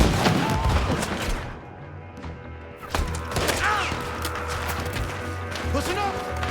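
Gunfire rings out in the Red Dead Redemption 2 video game, a series of loud, sharp shots in a skirmish, with a brief lull before the firing picks back up, mixed with game sounds and voices.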